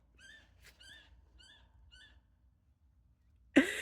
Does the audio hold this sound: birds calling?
yes